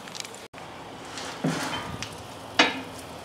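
Burgers mixed with Lipton onion mix sizzle faintly on a grill, a soft crackling hiss broken by a couple of sharp metallic clinks from cooking tools.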